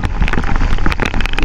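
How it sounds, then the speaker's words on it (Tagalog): Heavy rain pours down at a fishing spot in the Philippines near high tide, a loud, close, dense patter of drops striking surfaces in a continuous, uneven hiss. "Lakas ng ulan, saka pa-high tide na rin."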